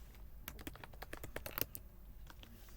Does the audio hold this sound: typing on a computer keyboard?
yes